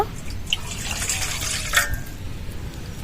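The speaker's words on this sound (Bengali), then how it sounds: "বড় একটা পাত্র নিয়েছি তার মধ্যে জল নিয়ে নেব" Water poured into a large vessel while preparing mango murabba, a steady close splashing and trickling fill with a few brighter drips and clinks over a constant liquid rush.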